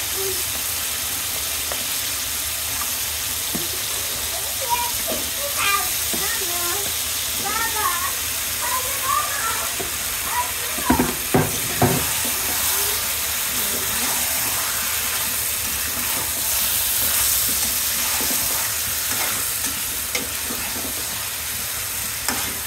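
Tengra fish, a kilo of it, added to a pan of cooked spice paste, giving a steady sizzle with stirring scrapes and brief louder clatters midway, while a voice speaks over it.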